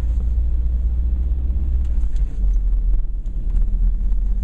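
A manual car's engine hums as a low, steady, continuous rumble while the clutch is eased out, the revs holding fairly even throughout, with faint wind noise.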